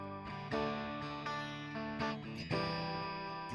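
An electric guitar played through a Vox amp model with a compressor, producing clean, sustained chords and notes strummed in a steady pattern with several sharp attacks, loud and close with no talking.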